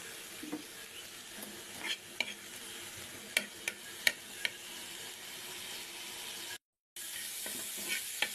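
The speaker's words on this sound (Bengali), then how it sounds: "আমি আর একটু তেল দিয়ে দিব, তারপরে একেবারে লাল লাল করে ভেজে নেব।" Shrimp frying in oil with a steady close sizzle, scraped and stirred in the pan with several sharp utensil clicks, a brief dropout near the end, no talking.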